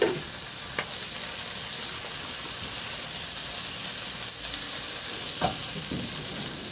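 Chopped onions and tomatoes sizzle steadily in a hot pan with fish, a continuous close frying hiss with a few faint clinks of stirring.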